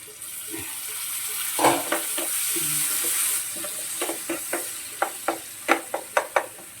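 Fish pieces going into a hot pan for a Telugu-style katta fish iguru, with a steady sizzle and a series of sharp clinks and stirring knocks that grow denser toward the end, heard close with no talking.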